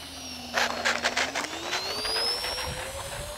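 An E-flite A-10 Thunderbolt II 64mm EDF RC jet sweeps overhead with a rising, whining ducted-fan tone that climbs in pitch as it passes, over a few close fluttering bursts of wind.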